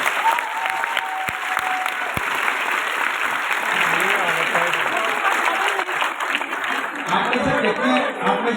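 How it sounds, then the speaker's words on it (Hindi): Loud, sustained applause from a crowd at a Jaipur event honouring Sameer Modi, a dense wall of clapping that holds steady throughout, with a few scattered shouts mixed in. "पर जोरदार तालियां समीर सर के लिए।"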